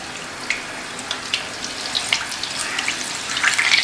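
Paneer pieces frying in hot oil, a steady crackling sizzle with scattered sharp pops that grow busier toward the end, close by with no talking.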